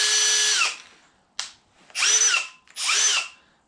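A Metabo cordless drill spins up on high speed in three close, loud bursts, each whining steadily then winding down, with a short click between the first and second run and no voices.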